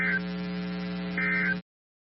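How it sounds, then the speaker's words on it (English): A NOAA weather radio alarm tone test from a National Weather Service station broadcast sounds as a steady, loud, buzzing tone with a low hum and a slight high warble, holding for about a second and a half before stopping abruptly. "The preceding alarm tone was a test of the public warning system on NOAA weather radio station KHP39."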